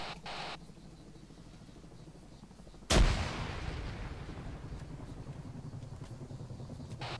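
A grenade goes off in the ArmA 3 military shooter, one loud close blast with a long rumbling tail that fades under background battlefield noise.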